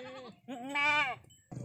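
Goat bleating at a goat farm, several clear drawn-out bleats in quick succession, close and fairly loud, the middle call rising and wavering before a short break and a final onset.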